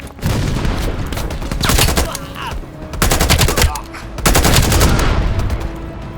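Sustained machine gun fire and overlapping bursts in a Call of Duty battle, loud and close, coming in dense rhythmic volleys with brief lulls between them.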